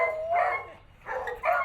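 Beagle barking twice at an airport, two short bursts separated by a brief pause, fairly clear and close with no talking.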